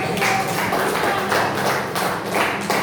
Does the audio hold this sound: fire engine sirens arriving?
no